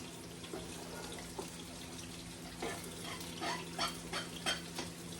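Onion and pepper fry in bacon drippings with a faint, steady sizzle, broken by soft scrapes and clatters from stirring in the pan.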